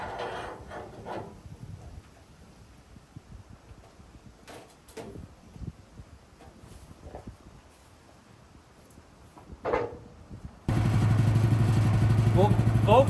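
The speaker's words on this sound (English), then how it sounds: "I got the sawmill warming up" A sawmill engine starts warming up near the end, a steady close idling rumble that follows quieter clatter and handling noises.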